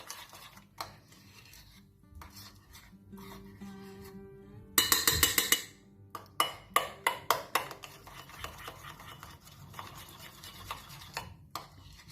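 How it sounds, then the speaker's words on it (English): Whipped candle wax is stirred and scraped in a bowl: soft sporadic scraping at first, then a burst of quick rapid scrapes and several sharper knocks of the utensil against the container, close by. "Give it a good stir."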